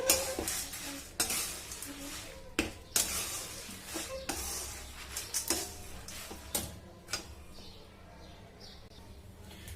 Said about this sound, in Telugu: సో మనకి పోపు మొత్తం వేగిపోవాలి.